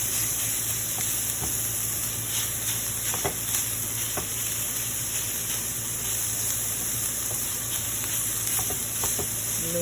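Ground meat frying in a pan, seasoned with salt and black pepper, giving a steady, loud, close sizzle throughout with a few light clicks of stirring scattered across it.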